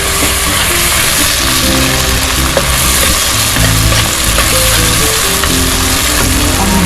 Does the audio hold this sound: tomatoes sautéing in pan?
yes